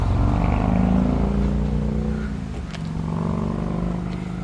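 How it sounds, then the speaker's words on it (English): National park tourist cars driving nearby, a steady engine rumble and road noise that fades slightly midway, with no talking. "Look at these cars that they have here at the national park where they take tourists around."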